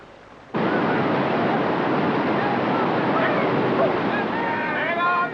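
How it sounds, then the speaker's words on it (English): Icy glacial river torrents carrying a glacier's load of rock, heard as a loud, steady rushing roar of water that starts abruptly and holds without a break. "Now, icy torrents pick up the glacier's load."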